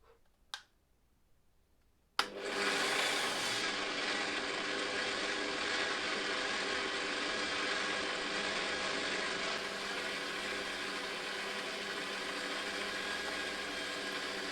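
Parkside PTBMOD 710 A1 bench drill press set to its lowest speed of 500 rpm, switched on with a sharp click, then whirring steadily and loudly at close range with no talk over it.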